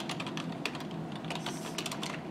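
Rapid typing on a rooted Nook SimpleTouch eReader's on-screen keyboard, a steady run of light clicks and taps close up, with no talking.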